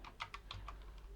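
Quick, light keystrokes tap on a computer keyboard, about half a dozen soft clicks in a short burst, close and quiet, while a terminal command is typed.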